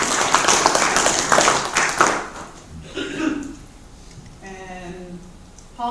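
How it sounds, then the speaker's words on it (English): A small audience at an interviewing skills workshop clapping for about two seconds, a loose, fairly close round of applause that fades out, followed by quieter moments with a voice speaking. "You guys give them a round of applause."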